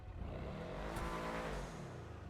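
The Nightshark car with a side exhaust in GTA 5 Online revs close up: one loud, rumbling engine note swells and holds for about two seconds, then eases off, with no talking.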